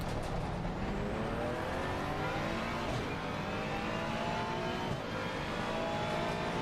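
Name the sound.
race cars in video game Assetto Corsa Competizione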